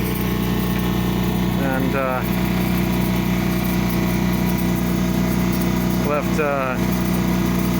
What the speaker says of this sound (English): No wind to sail with, so we're motoring.